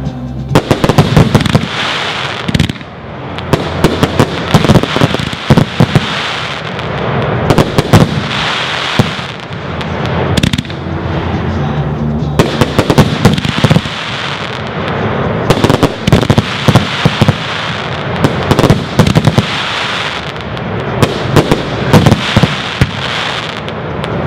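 A 2-inch 50-shot Skies Over Baghdad fireworks cake firing, loud rapid bursts and crackling pops in dense volleys with brief gaps, continuing throughout, no talk.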